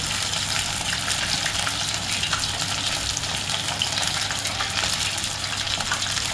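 Bombay duck (bombil) fish fries in a batch in a pan, giving a dense, continuous, close sizzle with fine crackling and no talk.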